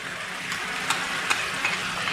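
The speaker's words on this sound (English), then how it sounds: "now we will fry this for another 3 to 4 minutes or till we can see the oil separating out" Masala paste of ginger and powdered spices frying in a pan for chana dal, a steady close sizzle with occasional scraping stirs of a spoon.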